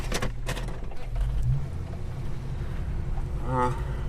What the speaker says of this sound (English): we're just sitting here under idle